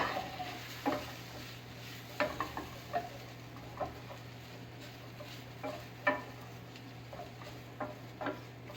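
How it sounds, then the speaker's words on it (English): A spoon stirs flour through fat in a pan over medium-low heat, making scattered soft scrapes and taps at an uneven rhythm over a faint low hum. "we're gonna give that a good stir and mix together"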